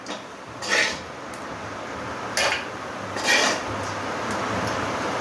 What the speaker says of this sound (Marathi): आता एका प्लेटमध्ये काढून घेते।